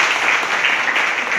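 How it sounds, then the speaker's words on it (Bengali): Audience at a Christmas celebration in Lalmonirhat applauding to welcome guests, a brief dense burst of many hands clapping together, loud and steady. "একটু জোরে হাততালি দিয়ে স্বাগত জানাই"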